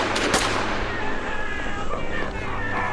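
Rapid gunfire crackles in a shipboard boarding battle in the Call of Cthulhu video game, loud overlapping shots and bursts over a dense rumbling background.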